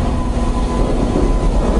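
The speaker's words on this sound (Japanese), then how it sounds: "これが越前鉄道の車両。" An Echizen Railway train on a line in Fukui heard at close range: a steady, loud rumble of running gear and motor noise with no clear rhythm of wheel clicks, continuous and alone.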